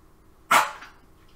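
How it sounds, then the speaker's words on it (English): A single short, husky dog cough bursts out once against a quiet background, then fades. "Oh, dog cough."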